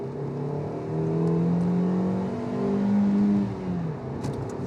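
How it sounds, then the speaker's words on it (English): A V8 car engine pulls hard in a kick-down from about 30 mph in fifth gear, its tone rising in two surges of revving acceleration with a smooth continuous whir, heard from inside the car. "It's kicking down if you put your foot down wanting more speed."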